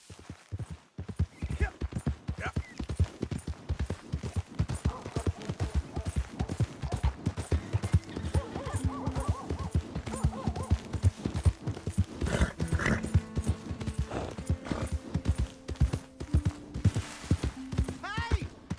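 Repeated horse hooves clip-clopping in a Red Dead Redemption 2 game scene, a fast steady trotting rhythm running nearly throughout, with a horse's neigh and a voice speaking over the galloping later on.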